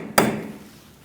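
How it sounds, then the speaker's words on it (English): A hammer strikes a steel punch once to unpeen the front axle nut on a 2002-2006 Toyota Camry during a wheel hub replacement, a single sharp metallic hit that rings briefly and fades. "I'm going to unpeen the nut using a punch and a hammer"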